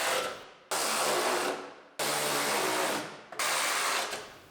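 Power tool tightening bolts on the front end of a 2019 Ford Explorer: three bursts of loud whirring, each starting abruptly and tapering off, heard close with no voices.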